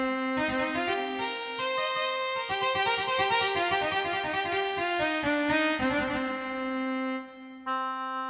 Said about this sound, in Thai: อันนี้เป็นเสียงซอนะครับฟิดเดิล